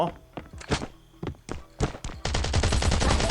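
Rapid gunfire in the survival shooter Last Island of Survival, scattered single shots giving way to a dense automatic burst, loud and close, with a voice talking over it.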